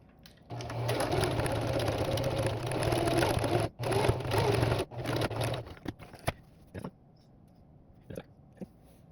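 A home sewing machine runs a steady, loud stitching whir through several layers of fabric at a long stitch length, pausing briefly twice before stopping, followed by a few faint clicks and handling noises.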